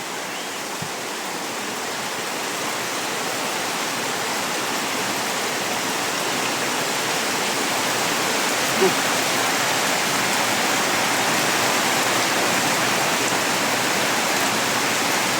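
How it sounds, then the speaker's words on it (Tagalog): Heavy rain pours down during a flood, a dense, even roar that builds slightly in strength and carries on without a break, with no voices heard. "Grabe, lalong lumalakas yung ulan, idol"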